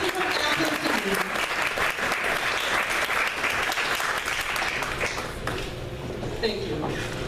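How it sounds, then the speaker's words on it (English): Audience applause for visiting performers at an event, a dense sustained round of clapping filling the room, tapering slightly toward the end with a voice faintly heard beneath it. "let's give them a round of applause"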